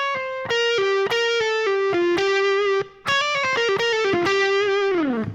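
Distorted electric guitar plays a solo phrase, a loud and sustained run of singing single notes with slides and bends, with one short break midway and a falling dive at the end.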